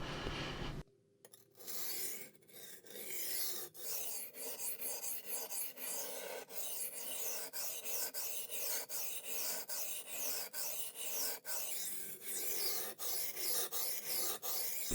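Shun chef's knife being sharpened on a coarse 250 grit waterstone, a steady close-up rasping scrape of steel on stone in repeated strokes, continuous for the whole stretch with brief gaps, no voices.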